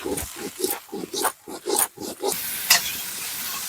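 Large cauliflower pieces, seasoned with salt and turmeric, fry in oil with a soft sizzle under a quick series of rhythmic stirring scrapes, settling into a steady hiss at the end.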